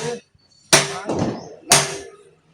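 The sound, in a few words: hammer tapping metal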